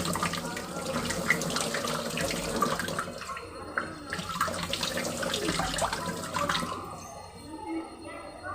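Tap water runs steadily while goat intestines are rinsed and flushed through at a kitchen sink, a continuous close splashing stream with brief dips, and a voice is faintly present beneath it.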